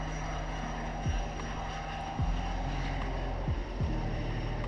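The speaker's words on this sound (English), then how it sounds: "Very loud plane." A Boeing 707 jet airliner in Microsoft Flight Simulator roars with a loud, steady engine drone, broad rumbling noise with whining tones that sweep downward several times.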